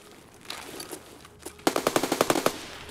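Rifle fire in a video game: a quick close burst of about ten loud, evenly spaced shots near the end, after a few scattered softer shots and quiet moments.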